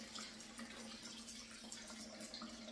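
Water and soaked split peas pour into a small 1-quart plastic colander, a faint, steady splashing wash with a low hum beneath it and no talking.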